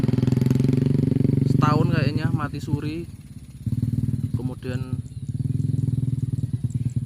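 A Suzuki Thunder 125 motorcycle, an old village-government bike, idles steadily with a low, even engine drone that runs through nearly the whole stretch, dipping briefly in the middle while someone talks over it.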